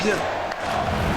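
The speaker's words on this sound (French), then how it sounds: "Écoutez la foule." A wrestling arena crowd at WrestleMania roars in a loud, continuous wash of cheering, with no single voice standing out.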